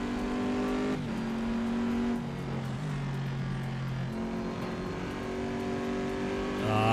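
A Corvette race car in a racing video game revs hard off the start line, its engine climbing steadily through several gear shifts with a droning, buzzy tone, loud and continuous with other engines behind.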